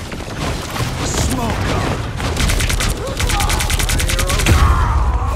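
Rapid gunfire in the video game Marvel Rivals, loud bursts of automatic shots and booms crackling through the whole stretch, with players talking over the shooting.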